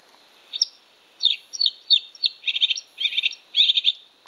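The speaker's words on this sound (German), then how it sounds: "Sumpfrohrsänger." Marsh warbler song plays back from a Ting pen bird guide: rapid bursts of high, scratchy chirps and trills in quick clusters, thin and tinny, with no voices.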